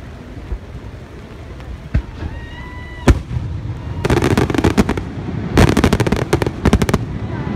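Fourth of July fireworks burst in a rainy Philadelphia night: a few separate booms, rising whistles, then rapid crackling volleys of firecracker-like pops, loud and fairly close, with steady rain noise underneath.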